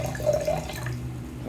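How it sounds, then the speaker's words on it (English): Wine poured into a wine glass, a short, close liquid trickle with a faint splashy gurgle, steady and fairly quiet throughout. "Let's do a nice pour. Make sure it doesn't gurgle too much on us."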